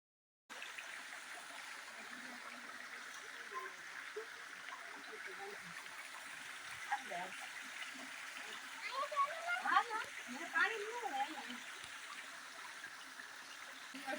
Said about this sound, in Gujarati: પાણી નો અવાજ આવે ઝરણાઓ કેવા મસ્ત વહે છે